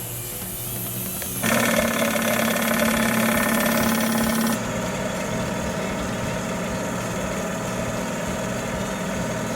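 A car engine idles steadily in a workshop after new brake calipers were bled, with a louder, busier stretch early on that settles back to an even hum.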